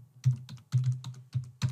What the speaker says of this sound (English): here I'm going to type an email